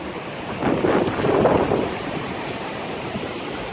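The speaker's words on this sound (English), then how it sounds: "I hope you guys can hear me because it's really windy outside." Strong wind buffets outdoors, a rushing roar that swells for a couple of seconds then settles into a steady blustery rumble.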